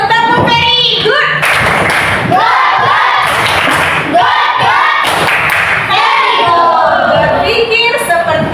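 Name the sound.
class clapping a 'very good' clap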